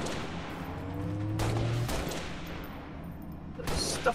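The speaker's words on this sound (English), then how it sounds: "Guns." Gunfire in the Halo video game, several shots and bursts over a steady rumbling battle backdrop, with a sharper crack near the end.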